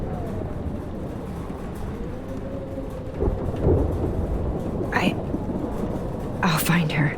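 A thunderstorm with steady rain in the video game Life Is Strange, a low rumbling wash of rain broken by a few sharper thunder cracks that swell near the middle and end.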